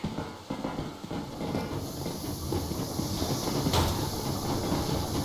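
A steam train rolls along in Metro Exodus with a continuous dense rumble and rushing hiss, a brief sharper hiss flaring near the end, loud and steady with no talk.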